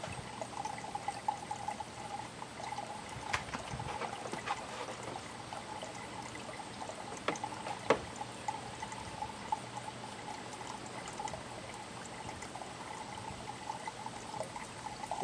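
Coolant trickles and pours into the cooling system of a 2019 Ford Edge 2.0 EcoBoost, a faint steady liquid stream with gurgles and occasional clicks, running alone for several seconds.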